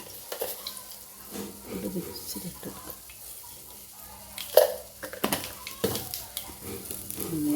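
Mustard seeds sizzling in hot oil in a home kitchen, a soft crackling sizzle with scattered pops and utensil clatter, under a nearby voice talking.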